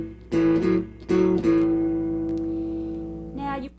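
An electric guitar plays bassy two-string chords in a 12-bar blues shuffle pattern. Short strummed hits are followed by a long ringing chord, then another strum near the end, with no talking.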